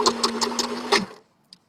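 Sewing machine back stitching a seam on a tie-dye shopping bag, a close rhythmic mechanical chatter of about six quick pulses that stops abruptly, followed by a single faint click.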